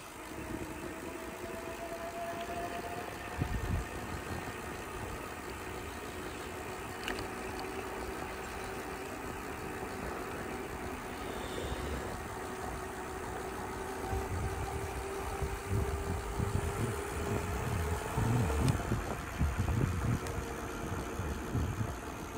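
A 2004 Diamondback Venom Pro 4130 BMX converted to a 750W 48V electric bike is ridden, giving a steady motor drone and tire rumble with wind buffeting throughout and no speech.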